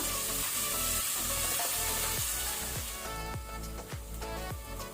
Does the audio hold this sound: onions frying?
yes